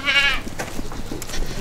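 Goats on a farm on a windy day give one loud, close bleat at the start, followed by wind and low rustling.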